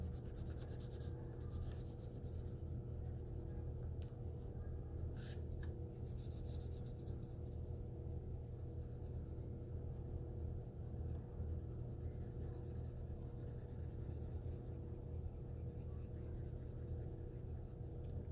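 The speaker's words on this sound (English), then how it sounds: "The folds of my paper want to make my marker go outside of the line." A marker scratches steadily across folded paper while a pink background is coloured in, a soft continuous rubbing close by, with a few sharper strokes and no talking.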